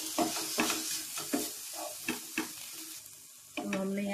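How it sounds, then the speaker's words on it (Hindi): A spoon stirs soy sauce and sugar through fried vegetables in a hot pan, giving repeated scraping strokes over a steady sizzle, close and moderately loud, with no one talking. "हम डाल देंगे इसमें 2 बड़े चम्मच सोया सॉस, चीनी और इसे हम मिक्स कर लेते हैं।"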